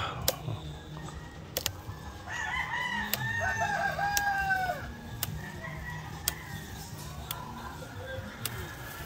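Layer hens cluck faintly on a farm while a rooster crows once in a drawn-out call, with sharp intermittent clicks and knocks punctuating the low background hum.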